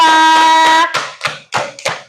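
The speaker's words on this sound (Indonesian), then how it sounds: "tepuk tangan untuk kelompok 2" Classroom applause from fourth-grade students for a presenting group, several sharp rhythmic clap bursts following a brief sustained tone.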